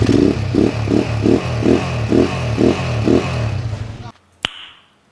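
A motorcycle engine idles steadily with a regular pulsing chug for about four seconds, then cuts out, followed by a single sharp knock.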